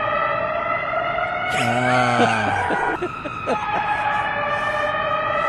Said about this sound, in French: on utilise une pompe qui pousse à haute pression cette gaine à l'intérieur du tuyau